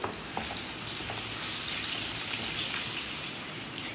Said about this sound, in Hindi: ये देखिए हमारी हरी मिर्ची जो है फ्राई हो रही है